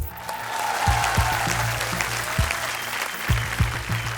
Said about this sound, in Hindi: तालियां।